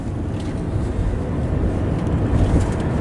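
A 2012 Nissan Leaf electric car accelerating hard at full throttle, a steady, loud broadband rush of road and wind noise with a low rumble swelling slightly toward the end, with no gear shifts.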